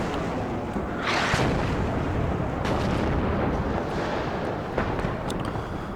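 Continuous rumbling battlefield din from MLRS rocket artillery in the WARNO strategy game, with layered booms and whooshing launch bursts around one and five seconds, dense and loud throughout with no talk.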